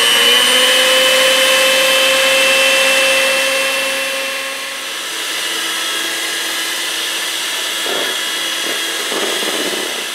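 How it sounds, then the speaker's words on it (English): Electric hand mixer whipping heavy cream, a steady loud whirring drone with a high whine that drops in pitch midway, followed by faint clicks of beaters against the bowl. "so that's what I'm doing with the hand mixer"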